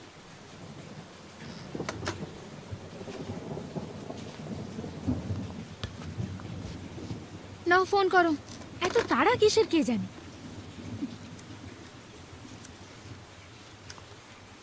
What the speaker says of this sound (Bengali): বৃষ্টি পড়ছে, আউটডোর শট কি করে শুট হবে?